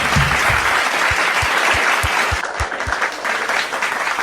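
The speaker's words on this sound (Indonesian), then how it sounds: "Tepuk tangan." An audience at a religious gathering applauds, a dense steady wash of clapping from many hands, loud and close. It carries on through the whole stretch with faint rhythmic thumps underneath.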